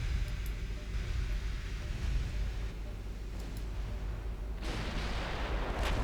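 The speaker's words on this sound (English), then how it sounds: "we're taking return fire" Naval gunfire in the video game Ultimate Admiral Dreadnoughts rumbles as dull booming blasts over a constant broad roar, with a sharper, brighter burst of noise near the end.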